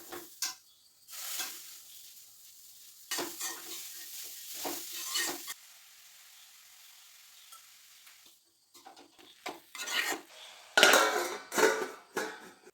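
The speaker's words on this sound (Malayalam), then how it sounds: "ഇനിയിപ്പോൾ തോരൻ അങ്ങോട്ട് അടുപ്പത്തേക്ക് വെക്കാം" Thoran sizzles in a hot pan in a home kitchen during a morning routine, with bursts of frying hiss and stirring scrapes in separate spells between quiet pauses, close by and without voices.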